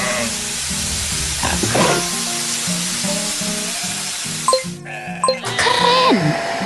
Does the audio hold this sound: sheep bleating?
yes